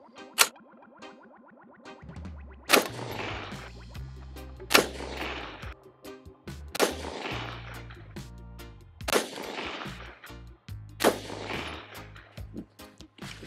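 A Geissele Super Duty AR15 rifle fires 5.56 rounds: about six loud, sharp shots spaced roughly two seconds apart, each trailing into a long booming echo, with no voices.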